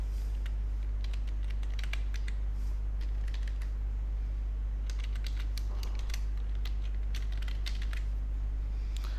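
Bursts of quick computer keyboard typing as an email address is entered, close and fairly quiet over a steady low electrical hum, with no voices.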